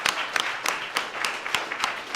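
An audience at a sports awards ceremony claps in a steady, evenly spaced rhythm of sharp, moderately loud hits, with faint room murmur between them.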